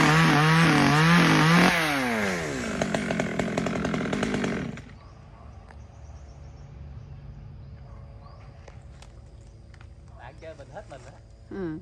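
A small chainsaw revs hard with rising and falling engine sweeps while cutting a large double-trunked Sao tree with many branches, loud for about four seconds before dropping to a faint idle with a brief rev near the end.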